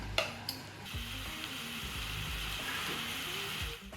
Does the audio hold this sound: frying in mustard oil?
yes